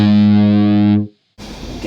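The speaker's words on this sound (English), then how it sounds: "I prefer the sound of the Marshall overdrive over a standard distortion pedal" Electric guitar played through a Marshall Plexi drive overdrive pedal, a loud sustained distorted chord ringing for about a second before cutting off, then a quieter rough burst of picking.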